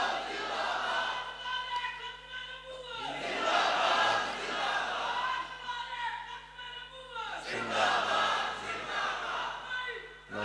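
A crowd chants a religious slogan in unison in response to a leader's call at a Punjabi religious gathering, loud rhythmic waves of massed voices rising and falling, mixed with speech.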